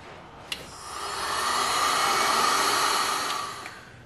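A heat gun blows steadily into the bearing pocket of a ZF5 transmission case, a continuous airy roar that swells and fades slightly, with a couple of faint clicks and no talking.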